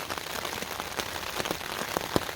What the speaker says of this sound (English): it's raining and it's only going to get worse throughout the day.